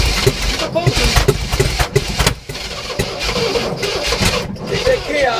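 A 1967 Oldsmobile Toronado engine cranking on a tired, weak battery, loud rhythmic starter churning that drags and briefly stalls midway before resuming, with voices talking over it nearby.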